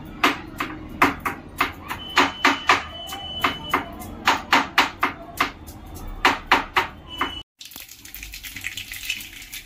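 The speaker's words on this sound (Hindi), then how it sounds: "ये मैंने थीच दिए आलू मूली" Boiled potatoes and radish being crushed for a Uttarakhand thichodi dish, a run of sharp, rhythmic pounding thuds close by, followed by a short stretch of rustling kitchen noise with no speech.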